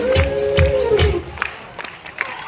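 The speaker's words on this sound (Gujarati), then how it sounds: "તાળીઓ તો પડવી જોઈએ હો સાથે" An audience at a school dance function claps and cheers in a loud burst of rhythmic clapping and crowd noise, with whoops over the top, that thins into scattered claps and voices toward the end.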